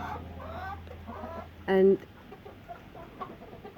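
Laughing chickens from Indonesia at the Phuket orchid farm, clucking in a rapid, stuttering series of calls over steady background noise, with one louder, sharper squawk in the middle.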